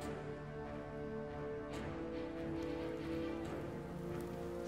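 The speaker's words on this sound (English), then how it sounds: "That's spray from the collision." Steady hiss of falling water spray from a collision in the video game Naruto Shippuden: Ultimate Ninja Storm 4, like heavy rain pattering on a surface, with a few brief splashy bursts, fairly distant and continuous.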